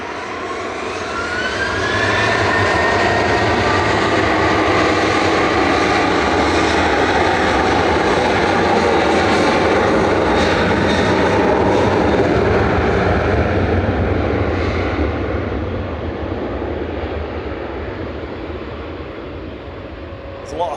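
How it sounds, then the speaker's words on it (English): Ryanair Boeing 737-800 jet at Manchester Airport, a loud close engine roar with a rising whine that builds over a couple of seconds, holds strong, then fades slowly, with a voice talking over it. "go is Ryanair with a 737-800. Heading to Katowice."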